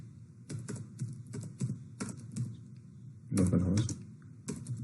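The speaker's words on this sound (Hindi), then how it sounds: "तो लिखेंगे क्रिएट यूजर विनय" Typing a SQL command on a computer keyboard, irregular clusters of close, crisp key clicks with short pauses between bursts and a faster flurry near the end.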